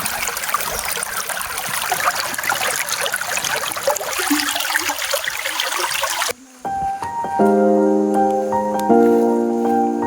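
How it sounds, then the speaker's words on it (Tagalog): Steady rushing of a flowing forest spring fills the first six seconds, then cuts off abruptly and gives way to sustained tones. "Tunog ng tubig, the best talaga, no?"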